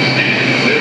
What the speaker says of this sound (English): Manhattan bound 4 train